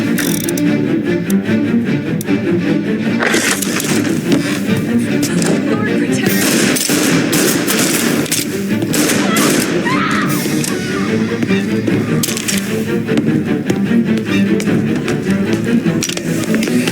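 Sustained gunfire in Mafia: Definitive Edition, rapid overlapping shots and bursts that run continuously, loud and dense, with shouting voices mixed in.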